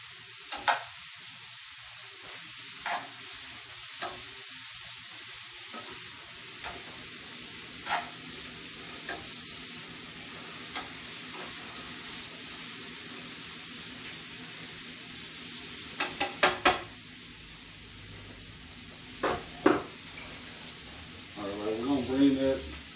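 Half an onion cooks down in a hot pan with a steady low sizzle, broken by scattered clicks and scrapes of stirring and a few sharper clatters toward the end; no one speaks.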